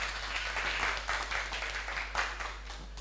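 Audience applause greeting a speaker taking the stage at a talk on the future of work, a steady wash of clapping from a crowd with small swells, moderately loud and without voices.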